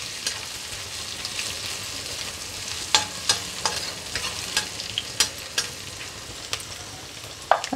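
Onion sautés in hot oil with cumin and asafoetida, a soft steady sizzle under a run of sharp spoon clinks and scrapes against the pan, close and alone.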